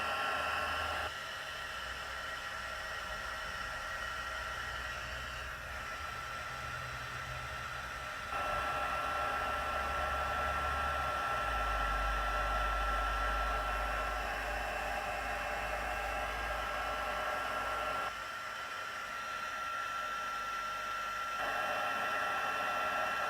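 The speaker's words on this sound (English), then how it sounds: "It takes a moment for the heat tool to heat up, but once it starts to heat, it then goes pretty quickly." A heat tool for card making blows hot air in a continuous, steady roar like a hair dryer. It runs close by for over twenty seconds, with slight shifts in pitch and loudness as it is moved.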